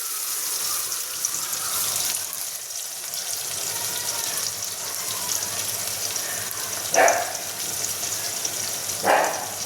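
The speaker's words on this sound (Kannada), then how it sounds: "ಜಾರಕ್ಕೆ ಸ್ವಲ್ಪ ನೀರು ಹಾಕಿ ಅದು ಮಿಕ್ಸ್ ಮಾಡ್ಕೊಳ್ಳೋಣ." Water is poured into a mixer grinder jar in a home kitchen while chicken sambar cooks. A steady watery hiss runs throughout, broken by two short, brighter splashes near the end.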